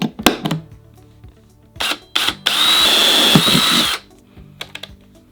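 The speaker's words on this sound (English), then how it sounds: "for that I'll use an 11/64 drill bit" Power drill with an 11/64 bit boring holes in a plastic panel during a Subaru Crosstrek rear-seat power install: one loud, close whine lasting about a second and a half, framed by short handling clicks and knocks.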